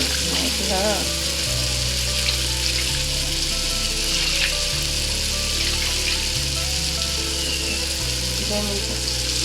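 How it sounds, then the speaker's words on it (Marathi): Oil spatters and sizzles steadily in a pan of fenugreek-leaf and pea curry cooking with tomato, a dense close crackle that runs throughout with brief faint voices and kitchen clinks underneath. "टमाटरमुळे पण तेल कसं उडते"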